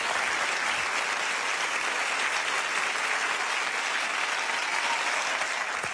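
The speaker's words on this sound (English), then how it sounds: "A little bit more applause for that?" Sustained studio audience applause at a TV home-video comedy show, dense and steady throughout at full volume, with no voices rising above it.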